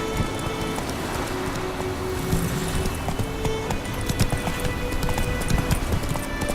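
Horse hooves clip-clop steadily in The Witcher 3 as a horse is ridden along, a continuous galloping rhythm over wind-like ambience, fairly loud throughout.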